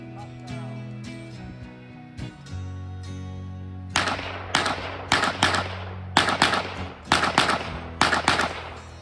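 A registered MP5 short-barrel rifle in .22 rimfire fires a series of sharp, close single shots at an irregular pace, about eight cracks over several seconds following quieter outdoor activity.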